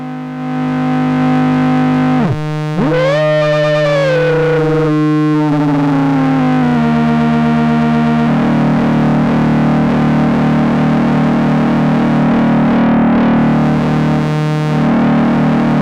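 A Bentō noise box synth drones with sustained buzzy tones, first unfiltered with sweeping pitch shifts, then with its filter engaged for a thicker, steady hum that runs loud and unbroken to the end.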